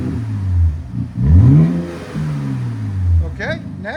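A 2025 RAM 1500 with the 3.0L Hurricane inline-six and a Black Widow exhaust revs hard twice, the loud exhaust note rising and falling near the microphone, with a brief voice at the end.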